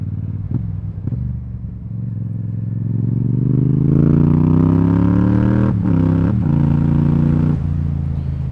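A motorcycle engine rumbles up to a steady, rising rev, then gets quick sharp throttle blips as the rider rev matches and downshifts, with a couple of light clicks early on.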